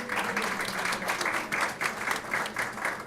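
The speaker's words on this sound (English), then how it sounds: "please give her a round of applause" Steady round of audience applause at a school district board meeting, many hands clapping in a continuous, even patter of moderate loudness with no voices on top.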